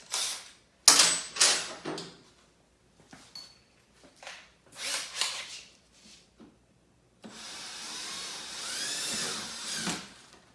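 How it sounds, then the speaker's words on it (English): A drill whirs in short bursts boring a 3/16 inch hole in a snowmobile hood, stopping and starting several times, then runs steadily for a few seconds with a grinding, scraping edge. "Go ahead and drill that one 3/16."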